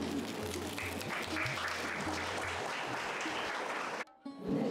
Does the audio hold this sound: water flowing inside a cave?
no